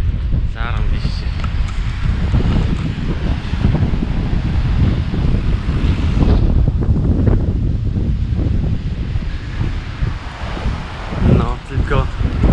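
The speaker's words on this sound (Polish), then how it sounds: "Wiatr wieje, huczy." Strong wind roars beside the ocean at La Mareta, Tenerife, with waves underneath and gusts buffeting the microphone in a loud, steady rumble; a voice speaks over it.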